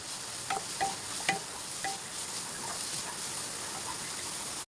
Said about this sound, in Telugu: కట్ ఆనియన్స్ వేసుకొని ఫ్రై చేసుకుందాం దోరగా వేగాలి ఆనియన్స్